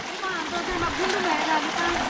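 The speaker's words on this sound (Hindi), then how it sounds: "जगह जगह से पानी आ रखा है, जगह जगह से, हर जगह अपना रास्ता बना लेता है पानी" Rainwater runs and splashes down a slippery mountain path in Uttarakhand during heavy rainfall, a close, continuous gurgling stream with someone talking over it.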